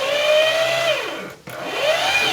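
A Singer Heavy Duty sewing machine runs while winding the bobbin, a steady motorized whine that slows to a brief stop and then spins back up, close and fairly loud.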